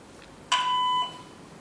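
A single electronic voicemail beep, a clean steady tone lasting about half a second, sounding alone against quiet background hiss.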